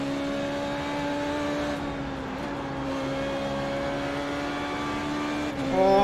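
Formula 3.5 car in iRacing at Spa Francorchamps: a steady, high, buzzing engine note holds, then dips sharply in pitch at two quick upshifts, with nothing else heard.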